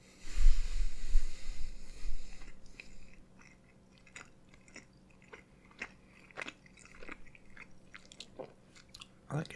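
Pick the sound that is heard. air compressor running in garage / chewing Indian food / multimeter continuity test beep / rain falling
chewing Indian food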